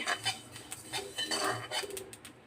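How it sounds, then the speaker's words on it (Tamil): Sesame seeds dry-roast in a pan over a medium flame for garlic spice powder, popping and crackling in irregular clustered bursts. The sound is close and moderately quiet, with no talking. "எள் நல்லா படப்பட படப்படான்னு பொரியணும்"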